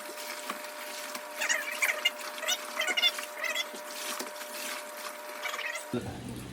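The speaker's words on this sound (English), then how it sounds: "that pressure washer is working out really nice" A pressure washer sprays a doe hide, making a faint, continuous hissing spray with small fluctuations. The sound cuts off abruptly near the end.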